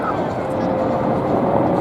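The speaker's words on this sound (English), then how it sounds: "that is the Cobra that we see trailing the three helicopters" A Bell AH-1 Cobra attack helicopter flies behind three other helicopters at an airshow at Marine Corps Air Station Beaufort, South Carolina, producing a steady, loud engine and rotor drone with no distinct blade thumps.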